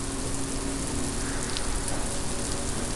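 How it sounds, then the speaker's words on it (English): Freezing rain pattering steadily onto ice-crusted snow during a winter ice storm in Seattle, a dense, even hiss of countless tiny impacts close by, with no voices. "You can hear the frozen rain hitting the snow with ice on top."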